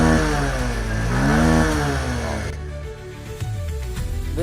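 A 2022 Bajaj Pulsar 125 motorcycle engine runs steadily close by, its pitch rising and falling as the throttle is blipped, then settling into a lower, uneven idle with light mechanical clatter.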